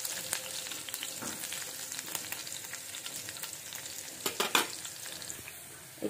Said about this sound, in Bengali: রসুনটা একটুখানি হালকা ভাজা হয়ে যাবে।